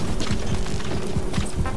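A horse gallops in Metal Gear Solid V in a fast, rhythmic run of thudding hoofbeats, close and fairly loud, with no talking.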